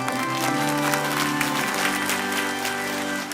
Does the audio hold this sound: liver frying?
no